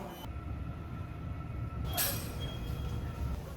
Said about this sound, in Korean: 부산역 방향으로 가는 지하철을 타야 해요